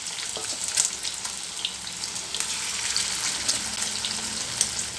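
Garlic kebabs fry in oil over a medium flame, a continuous crackling sizzle with small spits and pops that holds steady throughout, close and clear.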